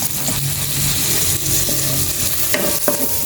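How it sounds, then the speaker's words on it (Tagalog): Tomatoes sautéing in a home kitchen pan, with a steady sizzle and frying hiss that continues throughout, along with a few clinks of utensils stirring near the end. "Gigisa natin yung kamatis."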